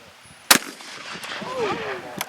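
A youth fires a shotgun at a clay target: one loud, sharp blast stands out, followed by a brief echoing tail and faint voices in the background.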